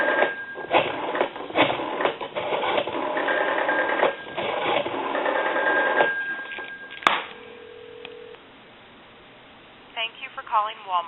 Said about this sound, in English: Another number we can dial, let's go ahead and dial, like, say, a Walmart number.